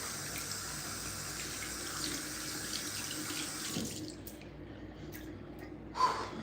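A faucet runs steadily into a sink to wet a medium brush for washing 360 waves, a close, continuous splashing stream that cuts off, leaving near silence before a brief drip or tap.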